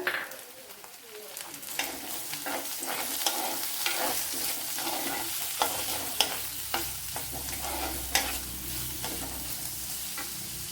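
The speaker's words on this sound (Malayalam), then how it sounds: "ഇതിലേക്ക് വലിയൊരു തക്കാളി ഇതുപോലെ കട്ട് ചെയ്തെടുത്തിട്ടുണ്ട്, അത് ഇട്ട് കൊടുക്കുക" Chopped tomato goes into a pan of gooseberry curry, which keeps frying with a steady, close, hissing sizzle and occasional stirring scrapes and knocks.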